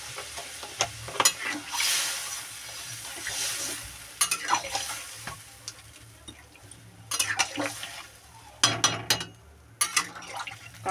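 A pan of jackfruit and prawn curry cooks after water is added, giving a soft bubbling sizzle broken by intermittent stirring scrapes and clatters of a spoon against the pan.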